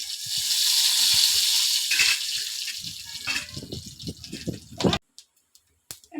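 Mustard seeds dropped into two spoons of hot oil in a pan for tomato rasam give a loud hiss and sizzle at first, then fade into scattered crackles and pops before going quiet.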